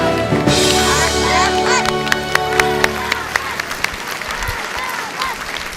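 An audience claps for medal winners at a children's event, starting with a dense round of applause that thins out to scattered single claps, while a voice rings out over the start.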